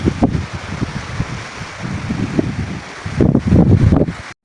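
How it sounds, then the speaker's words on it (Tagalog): Gusty wind at a beach buffets the microphone in uneven, rumbling bursts that swell louder toward the end before cutting off abruptly. "mahangin dito sa kapila"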